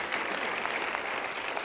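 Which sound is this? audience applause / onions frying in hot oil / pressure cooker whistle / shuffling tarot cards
audience applause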